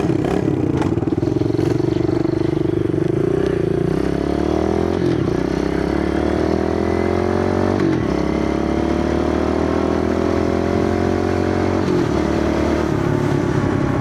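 Pit bike motorcycle engine running and revving on an evening ride from Goulds to the Trans Canada Highway, a loud, continuous buzzing drone with pitch climbing and dropping through gear changes, recorded close and without speech.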